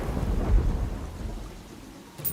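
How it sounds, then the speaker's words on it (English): Thunderstorm in the video game Terraria: low rumbling thunder over steady rain, with a fuller roll early on that fades toward a brief, sharper crack at the end. "We got a thunderstorm."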